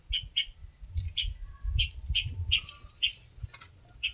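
Short, sharp bird chirps repeat in quick bursts at mid-distance, with a low rumble of background noise underneath.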